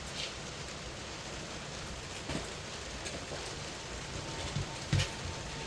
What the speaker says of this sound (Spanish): Aquí está lloviendo y me está cayendo el agua